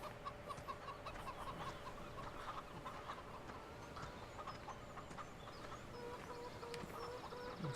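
Hens clucking in the video game Farming Simulator 17, a steady low chatter of fowl calls over a continuous farmyard ambience, faint and fairly distant, with no talk.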